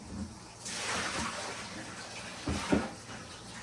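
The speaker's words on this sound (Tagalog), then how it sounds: "Hugas lang ako kamay." Hands being washed under a running tap while making breakfast, a steady close stream of water with a splashy swell midway and no talking.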